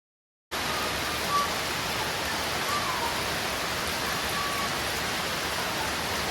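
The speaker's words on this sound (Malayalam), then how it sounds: "നല്ല മഴ പെയ്യുന്ന കാരണം അമ്മയ്ക്ക് ഇറങ്ങാനേ പറ്റുന്നില്ല" Heavy rain pours in a dense, steady hiss that starts abruptly and holds at an even level throughout.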